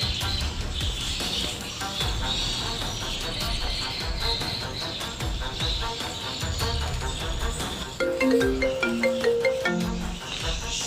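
A melodic electronic ringtone plays in a steady repeating pattern of tones, prominent over a busy background with chirping sounds.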